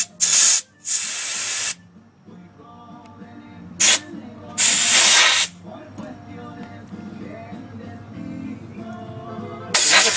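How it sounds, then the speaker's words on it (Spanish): Compressed air blasts through the jets of a lawn mower carburetor in sharp, loud hissing bursts, two early and two more midway, then one starting at the end, with quieter workshop sounds between. "le va a sopletear aire para que salga todos los orificios"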